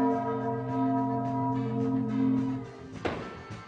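A radio show's chime sounds as a sustained, loud, bell-like tone with strong steady harmonics for over two seconds, then cuts to a sharp clatter and brief noise near the end.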